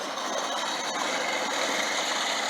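A small go-kart engine drones steadily through a practice lap at Northport International Raceway, a continuous buzzing whine at fairly even loudness with no talking.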